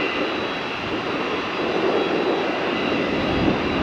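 Delta MD-88 jet airliner on its takeoff run, producing a steady, loud, broadband engine roar with a high whine that holds throughout without a break.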